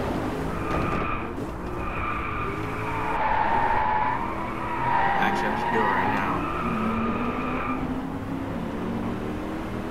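A 2015 Chevrolet Corvette Z06 drifts in the racing game Driveclub, its tires squealing in long sustained skids over the engine's drone, with a person talking throughout.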